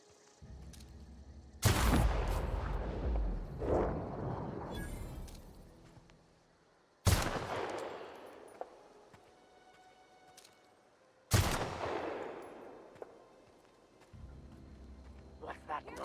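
Three loud, booming gunshot blasts in The Outer Worlds video game are spaced several seconds apart, each trailing off in a long echoing rumble, with voices heard between them.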